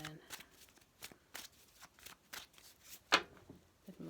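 Quiet, rapid riffling of tarot cards being shuffled, a series of soft flicks and taps close by, with a person speaking lightly over it.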